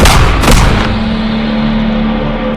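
A loud, sharp blast booms close by, then a short echoing tail and steady background hum.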